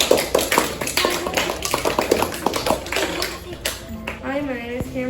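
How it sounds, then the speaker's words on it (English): Sixth-grade classmates applaud after a kids' how-to demonstration in a classroom, a dense burst of many hands clapping close by that fades within a few seconds as a voice starts speaking. "Give them a round of applause."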